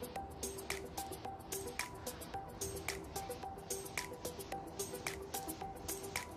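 Macaroni pasta stirred through a sauce in a pan, giving soft, wet squishing and light clicking strokes that repeat in a steady rhythm, fairly quiet and close.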